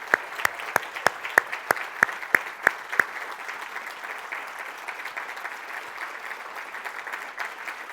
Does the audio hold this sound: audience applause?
yes